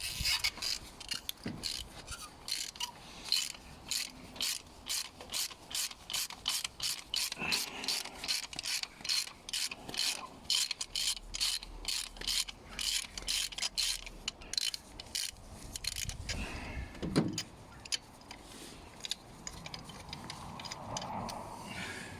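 A ratchet loosening the cylinder 4 spark plug on a Vauxhall/Opel Astra J, rapid repeated clicks in bursts of strokes, close and fairly loud, with some rubbing and scraping near the end; no talking.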